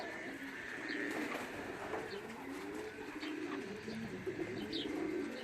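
Several racing pigeons coo softly in low, rolling calls over a quiet background, with a few faint chirps scattered through.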